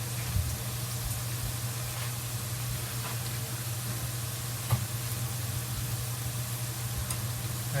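Green Sichuan peppercorns fry in hot oil with a steady, even sizzle and an occasional sharper crackle, close and continuous throughout with no talking.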